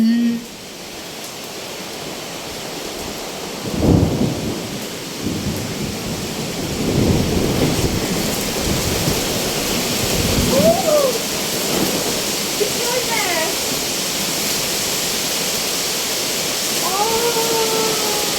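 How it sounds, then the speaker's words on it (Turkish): Steady heavy rain turning to hail pours down with low rumbles of thunder rolling through, constant and loud, with a few faint voices briefly audible, in Denizli, Turkey. "Çok güzel yağmur yağıyor."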